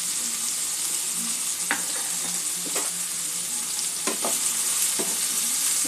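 Ground turmeric, chili and cumin sizzle in a frying pan for a kantola (spiny gourd) poppy-seed dish, a steady close hiss broken by a few scraping stirs of the spoon.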